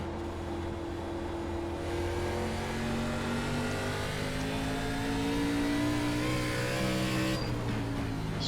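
An ARCA Menards Series race car in iRacing at USA International drones steadily around the track, its engine note holding and slowly shifting pitch over several seconds, with a brief change near the end.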